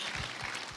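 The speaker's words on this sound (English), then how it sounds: "give a round of applause to all the volunteers, all the sponsors" Audience applause at a live event, a dense wash of many hands clapping, loud and continuous through the whole short moment with no voices on top.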